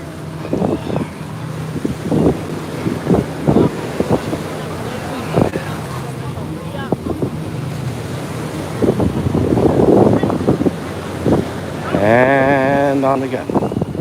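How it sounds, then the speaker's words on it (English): Ocean waves roll in at Coney Island beach during a sunset walk, a continuous wash of surf with wind buffeting the microphone and scattered thumps, ending with a brief rising whine. "These waves are larger than last time we were here."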